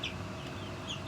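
Young feathered chickens cluck softly and intermittently inside a coop, with low, continuous farmyard background noise.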